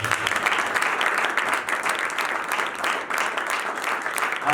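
Loud applause from a church congregation, many hands clapping in a thick steady wash that holds for several seconds with a brief dip midway.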